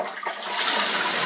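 A toilet with a leaking refill hose is flushed, and a loud rushing surge of water starts about halfway through and keeps pouring steadily, heard close up with no voices.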